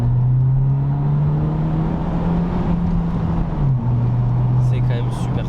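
A BMW 1 Series F20 114i M Sport with a Stage 1 tune at about 220 hp accelerates, its exhaust giving a low, steady, resonant drone that dips and settles mid-way, with people talking in the cabin.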